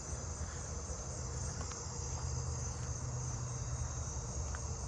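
A black-horned or four-spotted tree cricket trills steadily and continuously at night, a faint, even insect drone alone in the quiet outdoors, with no voices.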